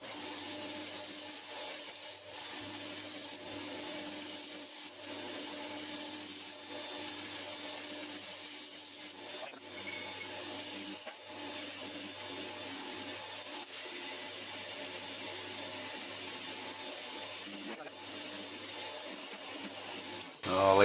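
A metal lathe cuts with a grooving tool close to the chuck during a homemade milling machine spindle build, giving a steady, quiet scraping and rubbing with a faint motor hum, continuous and even throughout.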